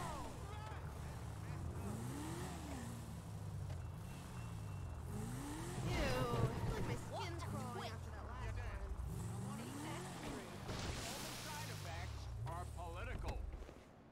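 A car driven in GTA V, its engine revving up and down over and over with a steady road roar and a few passing-vehicle swells, continuous and moderately loud throughout.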